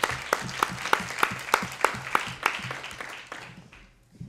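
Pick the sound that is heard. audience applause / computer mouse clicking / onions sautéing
audience applause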